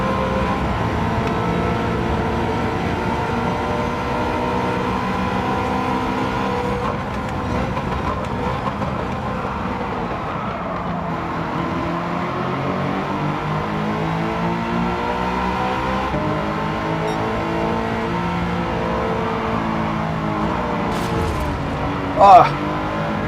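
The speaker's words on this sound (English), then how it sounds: "Back through comes that Ferrari." A Ferrari race car engine in a racing video game drones steadily with shifting revs and pitch sweeps as the car runs past, loud and continuous, with a voice talking over much of it.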